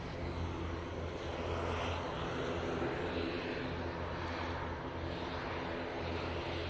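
A propeller aircraft engine at Manchester Airport drones as a steady, low rumbling buzz that holds at moderate distance and fairly faint throughout, with no talk.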